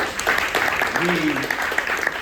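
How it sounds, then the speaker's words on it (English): Audience applause at a citywide community gathering on reparations, a moderate patter of clapping from a roomful of people, partly masked by a voice speaking over it. "give her a round of applause"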